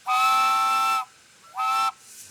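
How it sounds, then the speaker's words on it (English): A steam locomotive whistle blows twice: a long, loud, bright blast lasting about a second, then a shorter one after a brief pause. "I have to blow the whistle at the bridge and at the White House as well."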